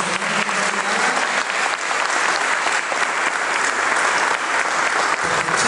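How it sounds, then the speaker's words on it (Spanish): A concert crowd applauds Jesús at a Christian music concert, loud sustained clapping from many hands filling the space evenly for several seconds, without voices rising above it. "le vamos a dar un aplauso a Jesús"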